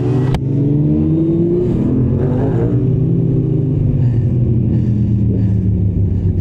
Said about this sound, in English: The MT-07 is so loud.